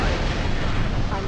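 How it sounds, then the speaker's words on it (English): An enemy mech blows up in the MechCommander strategy game, a loud, dense rumbling explosion that fills the whole moment with heavy low-end roar and no pause. "Enemy mech destroyed"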